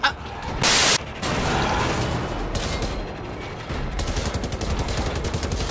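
Rapid gunfire bursts in Wolfenstein: The New Order, loud repeated shots with a sharp broadband blast and fast rhythmic machine-gun rattling near the end, mixed with game noise.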